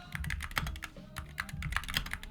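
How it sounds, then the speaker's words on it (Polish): Someone types on an Apex Pro Mini keyboard with quiet OmniPoint switches, a quick run of soft, close clicks and clacks in an uneven rhythm, with no speech. "najbardziej do gustu przypadł mi Apex Pro Mini. Ma bardzo przyjemne ciche switche"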